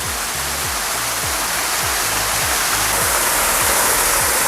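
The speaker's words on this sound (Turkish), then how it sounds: "akan sular, şelalenin düşüşü, buradan buraya akışı, oradan devam edişi falan Acayip iyi" Loud, steady roar of a waterfall pouring down and flowing on as a stream at Aden Boğazköy, a broadband rush filling the whole stretch with no pauses and no voices over it.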